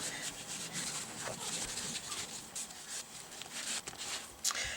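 Wet paint is rubbed off an art journal page in a continuous close scrubbing, with uneven strokes over a steady rasping texture and a few sharper scrapes near the end.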